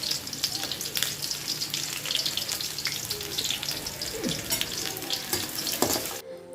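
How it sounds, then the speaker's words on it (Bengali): Chopped onions fry in hot oil in a pot for a Bengali dried lotte fish curry with ridge gourd, giving a steady, fairly loud sizzle with scattered crackles and stirring scrapes that cuts off near the end. "একটা পাত্রের মধ্যে পরিমাণ মতো তেল নিয়ে নিচ্ছি এবার এখানে আমি পেঁয়াজ কুচি দিয়ে দেব"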